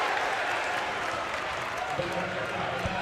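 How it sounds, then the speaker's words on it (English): Home crowd at the Overland high school boys basketball game against RJ gives a steady, roaring cheer in a gym, with occasional ball bounces, as an announcer talks over it. "This Overland crowd's getting back into it"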